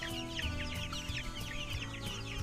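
Chickens cluck and chatter in a henhouse as young birds fly out, several overlapping calls near and fairly loud over a steady background hum, with no talk.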